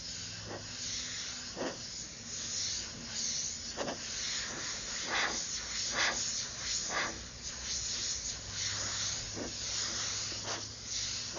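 Airbrush spraying paint in short hissing bursts separated by pauses, close and moderately loud against a steady low background.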